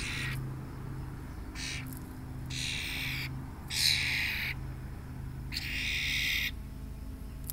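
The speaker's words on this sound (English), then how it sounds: "I don't know if this is how all starlings sound, but his squawk is definitely unique." A European starling just after release gives harsh, raspy squawks in about five separated bursts, fairly close and loud over a low steady background hum.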